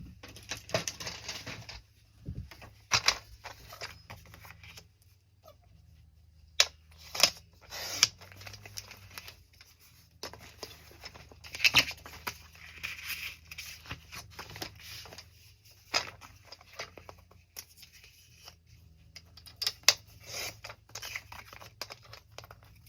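Scissors trim a paper journaling card to make it narrower: scattered, close snipping and paper rustles with short pauses between cuts, fairly quiet and unhurried throughout.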